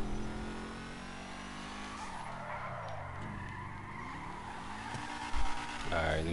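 Car in GTA V Online driving hard with tires skidding and squealing, engine pitch sweeping down and back up through a long slide, then a thump and revving near the end.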